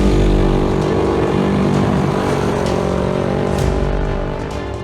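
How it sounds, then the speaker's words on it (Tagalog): Motorcycles rev hard and speed past while riders perform stunts, producing a loud, continuous engine roar close by that fades slightly toward the end. "Makikitang humaharurot ang mga rider at nagpapagalingan sa stunt."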